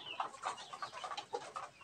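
A native hen clucks in short, soft, repeated calls close by, with no other sounds around her.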